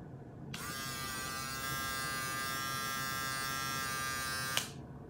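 A Wahl cordless electric razor switches on and runs with a steady, bright motor buzz for several seconds, then cuts off abruptly, heard close up and alone.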